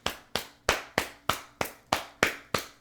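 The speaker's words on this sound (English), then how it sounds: "Clap your hands." Hands clapping nine times at a steady, even pace, each clap a sharp close slap, with no voices.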